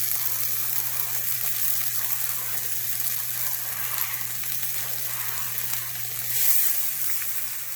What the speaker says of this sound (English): We're going to saute the green pepper,